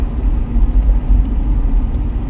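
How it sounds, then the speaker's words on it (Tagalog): Car engines in slow road traffic, a loud, steady low rumble and whir of motor vehicles close by, with no voices. "May konting traffic pa rin"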